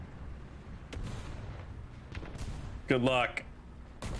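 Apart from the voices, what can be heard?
tank gunfire in the video game War Thunder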